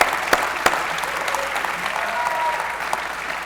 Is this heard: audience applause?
yes